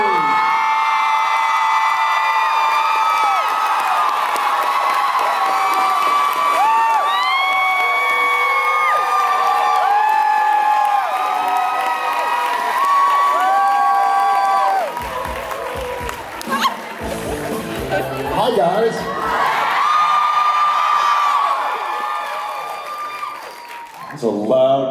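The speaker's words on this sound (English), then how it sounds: "It's a loud crowd for this early" A loud convention crowd cheers and screams for Jensen Ackles and Jared Padalecki at a Supernatural panel in Denver, with high whoops and shouts sustained throughout and dipping briefly near the end.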